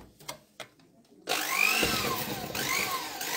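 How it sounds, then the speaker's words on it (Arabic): An electric mixer beats white and brown sugar into butter, starting abruptly after a second of near quiet and running as a steady, loud whirring buzz with rising and falling tone until the end. "بضربها عشان تتمزج كده مع الزبده"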